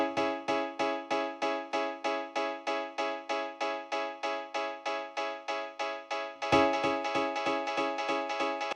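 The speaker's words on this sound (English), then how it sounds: "I will have this infinite echo" An infinite feedback echo effect in Ableton repeats a bright, tonal synth hit in a steady pulse at constant volume, neither rising nor fading, and a denser, louder layer of repeats joins near the end.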